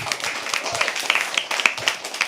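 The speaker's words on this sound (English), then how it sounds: "Can we please have a round of applause for her?" Scattered applause from an open mic poetry audience at The Habitat, a patchy run of claps with voices mixed in, steady and moderately close throughout.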